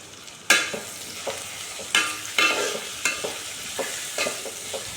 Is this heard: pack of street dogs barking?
no